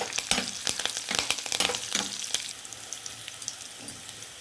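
Mustard seeds and curry leaves crackle and spit in hot oil, with a dense run of sharp pops that thins out to a steadier, quieter sizzle.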